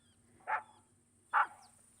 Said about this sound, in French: Snuffy courut vers un arbre et se mit à aboyer.